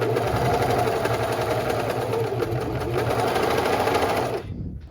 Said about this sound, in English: I'm gonna overlock the edges of the bandeau